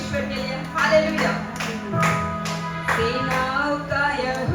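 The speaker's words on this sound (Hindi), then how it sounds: "सब लोग जोर से तालियां बजाएंगे परमेश्वर के लिए" A church congregation at a Sunday service claps for God, with rhythmic group clapping under a sustained musical tone and people's voices.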